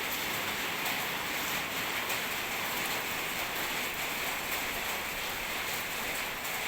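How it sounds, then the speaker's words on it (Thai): Heavy storm rain pours steadily as a dense, unbroken hiss, loud and even throughout with no talking. "ฝนก็ตกพายุเข้า"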